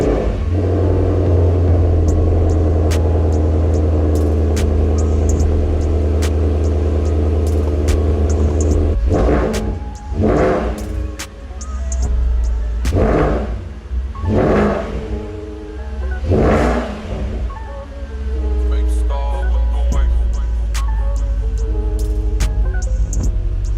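A Porsche Panamera engine cold-starts and settles into a loud, steady low idle rumble, with a few swelling revs in the middle before it drops back to a constant drone; no voices.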